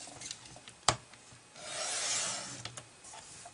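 A paper cutter slices a sheet of card stock down to 7 inches for a thank-you card, giving a sharp click followed by a soft, drawn-out rasping swish of the blade, close and alone.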